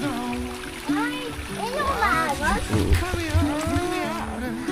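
Water sloshes and splashes steadily throughout, close by, while children chatter and shout over it in an outdoor setting.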